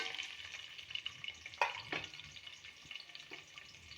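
Onions frying in a pan for a home-cooked lunch, a quiet sizzle with light stirring scrapes and a couple of sharp clinks from a utensil against the pan, no talking.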